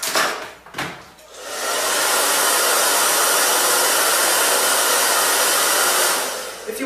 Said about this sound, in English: now what I want to do is just dry them, and we'll see how they look dry